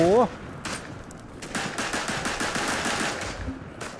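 Rapid gunfire from a gun in the WWI shooter Verdun, a long run of evenly spaced loud shots in bursts, with a voice briefly heard at the start.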